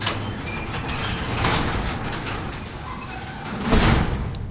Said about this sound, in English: I got to close this door because I'm freezing